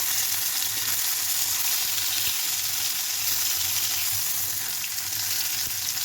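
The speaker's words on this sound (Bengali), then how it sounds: "আমার মাছ ভাজিটা প্রায় হয়ে গেছে" Fish frying in a pan gives a steady, close sizzle that runs unbroken throughout, with no voices over it.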